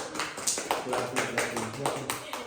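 A small group clapping rhythmically at a birthday cake cutting, a quick run of close hand claps at a steady beat with voices talking over them.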